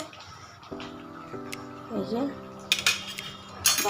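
Chicken stir-cooking in a pot, with metal spoon scrapes and clinks against the pot sounding in irregular bursts close by, under a steady hiss and occasional talk.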